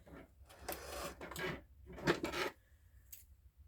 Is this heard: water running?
no